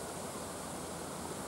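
River water rushes steadily beneath a bridge in Glenbower Woods, a dense, even broadband wash with no pauses, close and fairly loud, with no voices.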